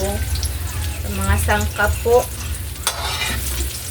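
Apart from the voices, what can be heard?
eggplant omelette (tortang talong) frying in a pan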